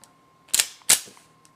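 Two sharp metallic clicks about 0.35 seconds apart as a Speer Gold Dot round is pressed into a Wilson Combat magazine for a Kimber Ultra Carry II, close and crisp, then a faint tick.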